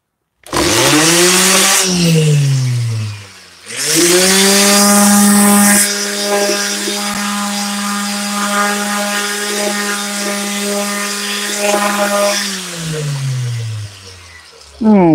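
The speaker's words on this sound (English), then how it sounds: "This is where I gotta angle my palm sander here at the corner." A palm sander runs loud and close on cabinet doors, pitched at the corner, with a steady motor whine that dips and restarts early on, then holds for about ten seconds before winding down.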